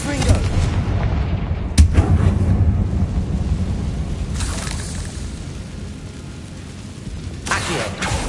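A Confringo spell explosion in Hogwarts Legacy sounds as a sharp booming blast over a dense rumbling game backdrop, followed by further swelling whooshes, with someone speaking over it.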